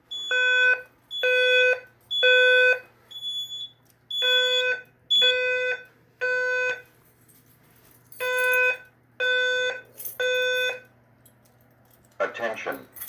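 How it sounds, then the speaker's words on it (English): A Simplex voice evacuation system sounds its temporal fire alarm tone: loud, steady three-pulse bursts with short gaps, repeated several times, then a brief hiss of noise near the end. "I have the temporal 500 hertz tone right now on that card"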